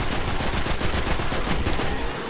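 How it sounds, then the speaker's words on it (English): Shotgun blasts and gunfire in the video game Destiny, a dense, loud barrage of booming shots and bangs that runs almost without a break before easing off near the end. "Shotgun blast and bang."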